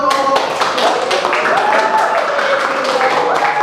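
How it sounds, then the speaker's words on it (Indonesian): Group applause in a room: loud, close hand claps ring out irregularly, partly overlapping a voice and a bright melodic tone running underneath, the clapping busy at the start and then thinning. "Silakan tepuk tangan untuk kelompok."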